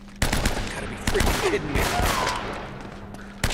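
Gunfire from the Uncharted: Drake's Fortune video game on PS4: loud, sharp bursts and rapid volleys that start and stop over a few seconds, with a voice talking over the shooting.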